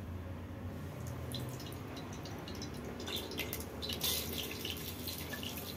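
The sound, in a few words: oil poured into the hot pressure cooker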